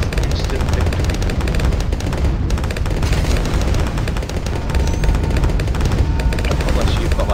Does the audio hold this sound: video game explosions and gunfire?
yes